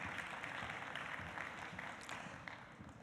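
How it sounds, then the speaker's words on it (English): In the plenary hall of a food safety conference in Dubai, an audience applauds a speaker with continuous, fairly faint and even clapping across the whole moment. "A big hand of applause,"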